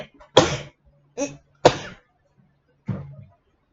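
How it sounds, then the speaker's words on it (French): A woman sneezes several times in quick succession indoors, with sharp close bursts separated by brief pauses and a faint cat meow in between. "Chaque fois que j'éternue"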